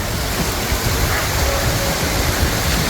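A waterfall on the Sky Pond hike in Rocky Mountain National Park gives off a loud, constant broadband roar, close by and unbroken, filling the whole scene with no other sounds standing out.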